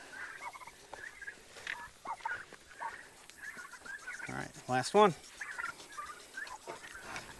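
Turkeys gobble in a quick rattling burst, with scattered gobbles around it and a person speaking briefly nearby.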